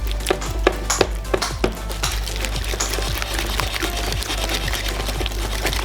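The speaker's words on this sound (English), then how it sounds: "Using a whisk, mix it." A whisk beats cream cheese, condensed milk and cardamom in a bowl, giving rapid, regular metallic clicks and taps against the sides over a steady low hum, close and continuous.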